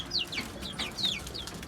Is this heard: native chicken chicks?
yes